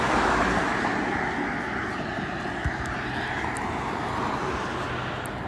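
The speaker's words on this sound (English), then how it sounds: "Every car that goes by is just trying to be as loud as they can be." A loud car roars past on a street near the piers, a broad sustained engine and tyre rumble that swells and fades over several seconds, with faint background activity.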